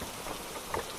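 Steady rainfall gives a soft, even hiss for one brief second, fairly quiet with no talk over it.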